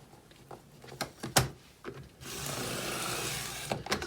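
A few scattered taps and rubs come first. Then a paper trimmer fitted with a scallop-edge blade is run along a strip of paper, giving a steady, close scraping swish for over a second.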